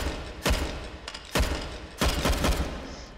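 G36 rifle chambered in 5.56 firing in the VR shooter H3VR: three loud, close gunshot bursts with ringing tails and mechanical clatter, spaced roughly a second apart, with no talking.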